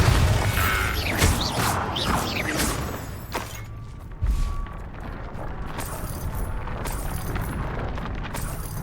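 The Bombarda blasting spell in the wizarding game Hogwarts Legacy goes off with a loud, crackling burst, followed by a second heavy thump and a long, fading rumble.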